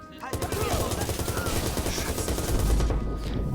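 Rapid video-game gunfire in Watch Dogs, dense bursts of automatic shots packed together without pause, loud and close, with a heavy low-end thump building toward the end.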